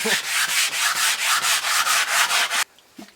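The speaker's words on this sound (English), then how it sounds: "Alright, you keep scrubbing." Rhythmic back-and-forth scrubbing inside an old giveaway truck's cab, about a dozen steady strokes up close, then stopping abruptly with a faint knock near the end.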